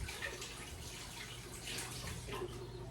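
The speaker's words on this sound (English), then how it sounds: "let me put this in the sink and wash my hands" Tap water runs steadily into a kitchen sink while hands are washed beneath it, a soft continuous broadband rush with slight splashy variation throughout.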